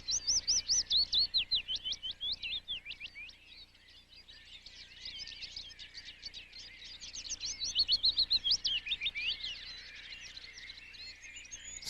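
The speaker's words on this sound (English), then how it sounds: "Sound is an ideal signal for birds because it penetrates through thick vegetation, carries over long distances" Birds sing and chirp continuously in quick, high-pitched trills and repeated notes, several calls overlapping, fairly clear against a quiet background with no voices.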